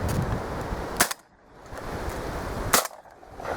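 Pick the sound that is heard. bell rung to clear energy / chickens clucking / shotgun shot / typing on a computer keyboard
shotgun shot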